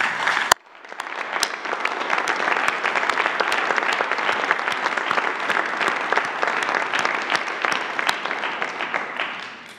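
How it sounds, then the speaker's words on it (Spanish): Sustained applause from a large audience at a Mexican presidential morning press conference, steady dense clapping that starts abruptly and carries on evenly throughout without any voices. "Un aplauso para los migrantes."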